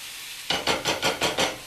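Greens sauteing in a hot pan, giving six rhythmic bursts of sizzle and stirring scrapes, close and fairly loud after a brief quiet start, with no talking.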